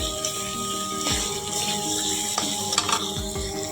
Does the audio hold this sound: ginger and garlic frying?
yes